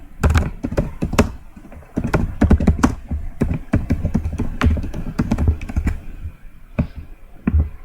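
Close, loud typing on a computer keyboard as an NGO name is entered into an online tax form: quick bursts of clattering key presses with brief pauses, no voice.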